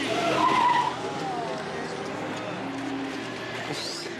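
Truck tires squealing and skidding in a near miss, a loud screech at the start easing into engine and road noise, with voices talking over it.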